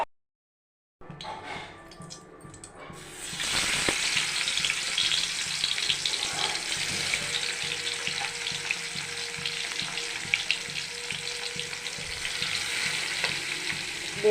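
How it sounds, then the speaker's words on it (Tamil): Marinated fish frying in hot oil in a pan, a steady close sizzle that starts abruptly after a brief silence and swells louder, continuing evenly with faint crackles and pops. "பொரிச்சிட்டு மீன் சாப்பிடலாம்."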